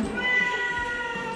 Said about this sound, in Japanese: ピの後を継ぐのは生後6ヶ月のオス猫トラマルです